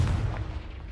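A Confringo fire spell blasts in Hogwarts Legacy, a deep, heavy explosive boom with rumbling low end that rolls on for under a second.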